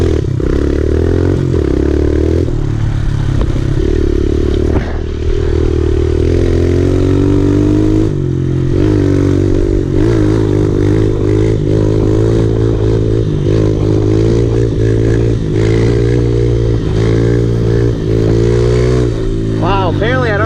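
A big bore pit bike engine drones and revs steadily through repeated wheelie attempts, loud and close, with pitch rising and falling and someone talking over it.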